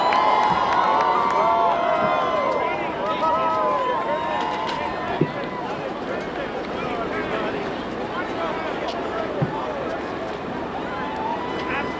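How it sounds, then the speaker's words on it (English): A sizable crowd gathers at Cincinnati Lunken Airport to greet President Trump and the first lady, giving off a steady, dense wash of cheering, shouts and chatter that holds at an even level throughout. "a fairly sizable crowd gathered to greet the president and the first lady"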